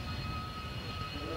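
Twin Pratt & Whitney J58 jet engines of a Lockheed SR-71 Blackbird roaring at an RAF Mildenhall airshow, a steady dense broadband rumble with a whining tone, continuous and loud.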